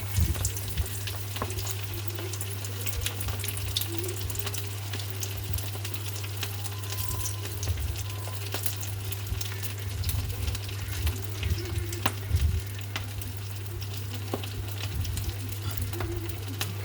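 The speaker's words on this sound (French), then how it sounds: "Ensuite, je mets dans l'huile." Pieces of food dipped in egg and rolled in breadcrumbs frying in oil, a strong, steady crackling sizzle that runs throughout alongside a low constant hum.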